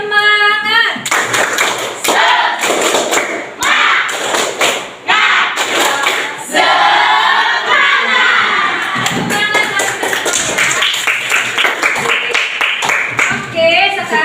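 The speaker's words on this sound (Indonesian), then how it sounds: "Coba kita tepuk semangat dulu ya, biar tambah semangat lagi." A seventh-grade class at Mts Daarul Arham performs the rhythmic 'tepuk semangat' spirit clap, loud patterned bursts of group clapping with thumps, interleaved with the children shouting and chanting along.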